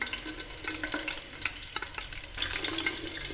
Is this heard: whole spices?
yes